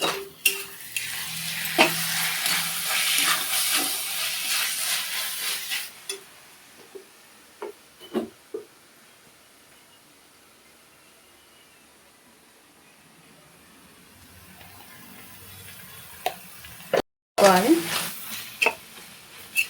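Spiced masala is stirred and fried in a pan for a Telangana-style egg curry, with a loud sizzle in the opening seconds that settles into quieter scraping and occasional clinks of a utensil against the pan.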